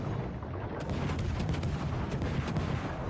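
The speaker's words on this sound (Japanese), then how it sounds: "さあ武蔵怒りの、まあ、砲撃をしていますけど" The Japanese battleship Musashi fires its main guns in World of Warships: a series of deep, booming salvos rolling over steady low battle rumble, several blasts spaced irregularly across a few seconds.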